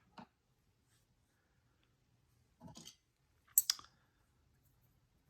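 Metal pins are picked in a homemade challenge lock, heard as sparse, faint clicks and short scratchy ticks separated by quiet gaps, close up. No one speaks.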